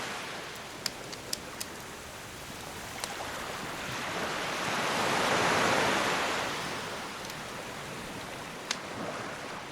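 Ocean tide waves rolling in and out over sand: a broad, hissing surf wash that swells to a peak and recedes, steady and moderately distant, with a few faint clicks.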